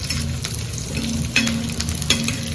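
Curry leaves sizzling in hot oil on a tava while making green chilli thecha, a steady close crackling fry with occasional stirring clinks, no voices.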